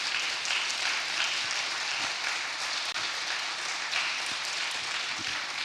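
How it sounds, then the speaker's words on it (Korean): A hall audience at a joint policy presentation for bishop candidates of the Seoul annual church conference applauds to welcome a candidate, a steady, dense wash of clapping held for several seconds. "뜨거운 박수로 환영해 주시기"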